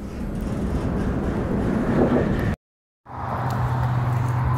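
A freight train rumbling past at close range, a loud continuous roar of rolling cars with a brief break in the sound midway before the steady rumble resumes.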